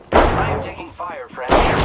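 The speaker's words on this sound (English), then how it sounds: "I am taking fire" Gunfire in the Apex Legends battle royale shooter: two loud broadband bursts of shots open and close the stretch, with a tonal in-game sound between them.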